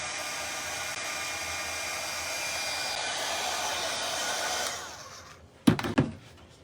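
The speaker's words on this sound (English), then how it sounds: "I'm going to stick the blow dryer down there on it for just" A blow dryer runs steadily and close for several seconds, heating a Halloween pumpkin craft decorated as a bubbling cauldron, then cuts off, followed by a few brief handling knocks.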